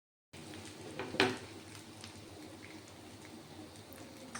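Bread pakora sizzling in hot oil, a steady low crackle of frying with one brief louder clatter near the start and no talking.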